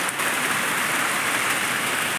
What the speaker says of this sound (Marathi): हा बघा पाऊस, थोडाच वेळ पाऊस आला पण सगळीकडे पाणी पाणी केलं.